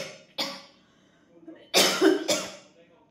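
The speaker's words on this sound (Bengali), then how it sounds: "আমার আবার শুরু হয়েছে কাশি" A person coughs in short bursts: one cough early, then a cluster of two or three harsher coughs near the end, close and fairly loud with quiet gaps between.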